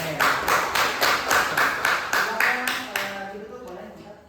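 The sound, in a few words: class applauding a presenting group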